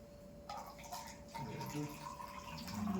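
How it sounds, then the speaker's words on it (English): Water poured into a glass, a soft continuous splashing trickle running through most of the moment, with faint talk in the background. "I'm pouring water into the glass."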